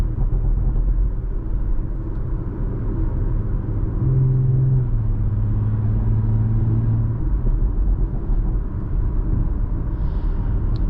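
A 2018 Audi SQ5 engine accelerating in dynamic and sport mode, a steady low rumble heard from inside the cabin with a rising tone in the middle as the revs climb, no talking.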